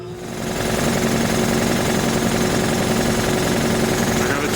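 An air compressor under repair runs steadily and loudly after a short ramp-up, with a fast mechanical chatter and a constant tonal hum throughout.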